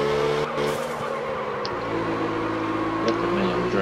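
A car drifts in Absolute Drift with a sustained tire squeal over a droning engine. A few sharper scrapes come early, and the skid holds steady and loud throughout.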